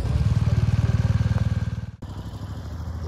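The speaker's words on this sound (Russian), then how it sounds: "Вот какой мотоцикл." A motorcycle engine idles close by with a steady, throbbing rumble in a parking area, briefly cutting out before resuming with a rougher, pulsing beat.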